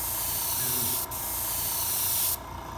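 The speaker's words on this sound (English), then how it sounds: "spraying a vignette, a soft gradation of color by holding the airbrush back, away from your work, and spraying overlapping passes" An airbrush sprays paint in steady overlapping passes for a soft colour gradation, giving a continuous close airy hiss that drops out briefly near the middle and cuts off near the end.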